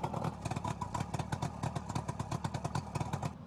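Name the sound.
boat outboard engine running on test with hose water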